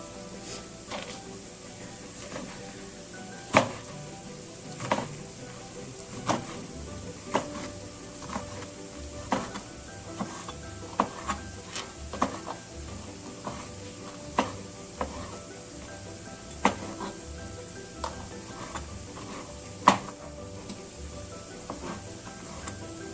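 Nopales cactus frying and being stirred in a pot, with a steady sizzle throughout and repeated sharp scrapes and knocks of the utensil against the pot at an uneven rhythm, close and fairly loud, no talk.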